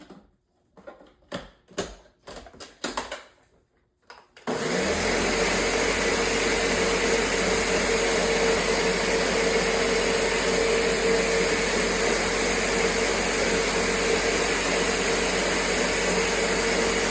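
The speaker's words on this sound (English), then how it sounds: "so we're gonna blend and see how it tastes" Meatball sauce whirs in a blender, a loud, steady motorized roar that starts abruptly after a few seconds of light clicks and handling noises, then runs continuously without a break.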